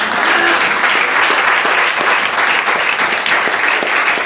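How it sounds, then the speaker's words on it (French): A church congregation breaks into loud, dense applause for the Lord, steady clapping from many hands sustained throughout. "Applaudissons pour notre Seigneur"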